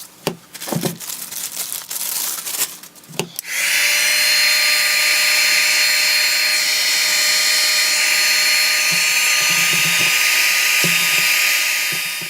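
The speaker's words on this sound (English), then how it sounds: "I dry the piece and warm it with the heat gun" A heat gun warming a copper piece: a few brief clicks and handling knocks, then a loud steady blowing roar that starts suddenly and holds close and even to the end.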